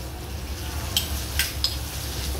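Spices and ginger powder masala for chole dry-roast in a pan, giving a steady soft hiss with a few light scraping clinks as the mixture is stirred.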